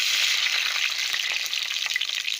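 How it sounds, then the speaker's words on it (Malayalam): Onions sizzle in hot coconut oil in a pan, making a dense, continuous crackle and hiss up close. No voices can be heard over the frying. "ഇനി നമുക്ക് ഇതിലേക്ക് ഒരു പിടി ഉള്ളി ഇട്ട് കൊടുക്കാം."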